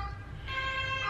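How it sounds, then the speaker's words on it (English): An ambulance siren passes at a distance, its wailing tone rising over a steady low rumble and holding for about the last half of the moment, with no talking. "I wonder if you guys can hear the ambulance going by."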